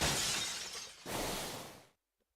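Glass shattering in the video game Ordeal Call, two loud crashing bursts of breaking glass in quick succession, the second trailing off into a brief tinkle before silence.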